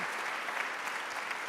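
Audience at a high-level trade event clapping in a brief, steady burst of dense applause, moderately loud and without voices.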